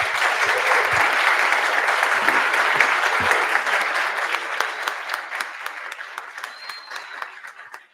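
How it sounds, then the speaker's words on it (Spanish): Audience applause for a professor after a lecture, full and loud at first, then thinning into scattered separate claps before fading out at the end. "aplauso para el profesor"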